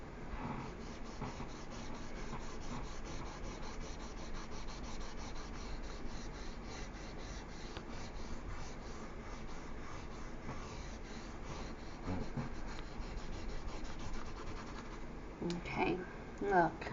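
An orange colored pencil rubs and scratches steadily across paper, a continuous close-up scribbling texture that runs for the whole stretch, with a few louder knocks near the end.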